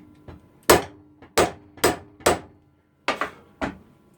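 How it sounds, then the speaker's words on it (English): A hammer's flat face taps a piece of wood down on a DIY Christmas craft, giving a series of about nine sharp, close knocks in uneven clusters with short pauses between. "I can go ahead now and take my flat end and just kind of tap the wood down."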